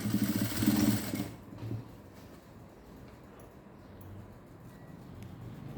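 A sewing machine stitches a frill gown fabric set with stones, running loud and fast for just over a second, then stopping, followed by quiet handling noises.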